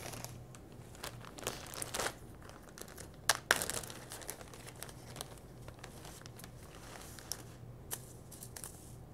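Old printout paper is handled while making homemade seed packets, with close crinkling, rustling and crisp sharp crackles scattered irregularly over about nine seconds, fairly faint apart from a few louder snaps.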